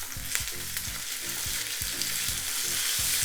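Steady, loud sizzling of pre-cooked chashu pork searing in a hot frying pan, with crackling pops over a continuous frying hiss.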